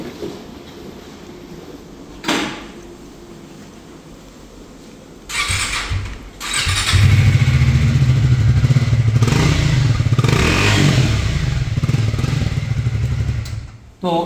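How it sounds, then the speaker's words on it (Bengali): A Triumph Speed T4 400cc motorcycle idles quietly with a few clunks, then its exhaust swells into a loud, sustained, throbbing rumble close by, with the revs rising and falling before it cuts off. "আমি এটা একটু এক্সজস্টের সাউন্ডটা শোনাবার চেষ্টা করি।"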